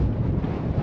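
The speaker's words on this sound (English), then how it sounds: "it's gusting up to about 24-25 mile an hour tops" Strong gusting wind buffets the microphone at a wild camp in the Brecon Beacons, a loud, steady low roar filling the whole moment with no pause.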